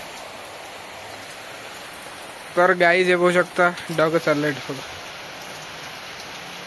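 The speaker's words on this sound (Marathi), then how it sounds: "इकडे येताच पाऊस अजून डबल सुरू" Heavy rain pours steadily in a wide, constant hiss, with a person talking briefly over it partway through.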